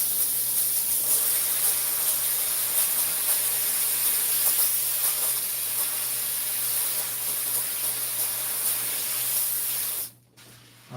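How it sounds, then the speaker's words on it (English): A garment steamer hisses steadily while steaming a hat, a continuous bright, airy jet of steam that cuts off abruptly near the end. "we gotta let that chill for a little bit as it cooks up a little more steam"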